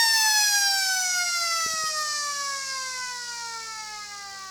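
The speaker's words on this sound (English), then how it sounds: "Swanky taps that one down as the siren goes for half time" A long wailing siren at a football ground marks half time, loud and steady as it slowly falls in pitch, with a couple of faint thumps partway through.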